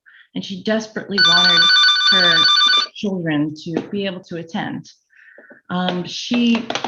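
A telephone ringing near someone speaking, a sustained electronic ring tone that sounds for about two seconds under and between her continuous talk.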